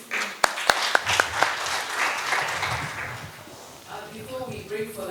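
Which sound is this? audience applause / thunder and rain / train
audience applause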